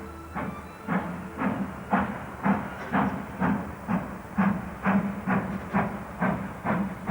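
A Great Western Castle-class steam locomotive, Defiant, chuffs in a steady, regular rhythm, each puff a hissing burst, moderately loud and close.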